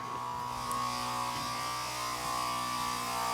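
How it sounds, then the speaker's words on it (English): A small pump fitted in a boiler room at an Arctic home runs with a steady, continuous electric hum and whine, close and even throughout, with no talk over it. "that noise is that little pump we fitted a few years ago"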